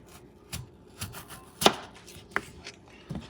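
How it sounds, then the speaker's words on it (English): A knife chops potatoes into quarter-inch slices for fries on a cutting board, giving about six sharp, separate knocks spaced roughly half a second apart, close and clear against a quiet room. "now you want to cut this into the slices that you want, about 1/4 inch"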